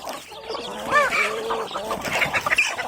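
Crossbred fighting chickens on a mixed farm cluck and make short rising calls close by, several birds overlapping in a busy, uneven chatter.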